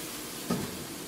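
Meat sizzles in a pan with Cajun seasoning, a steady close hiss of frying with a brief stir or flip near the middle, no voices.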